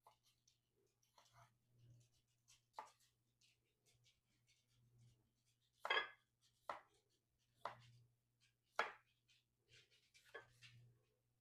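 A knife slices pickles thin on a cutting board: a series of crisp, close taps at an uneven pace, some louder than others, over a faint low hum.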